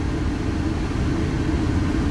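An air conditioner runs steadily in a hot room, a continuous low rumbling drone with even loudness throughout and no talk over it.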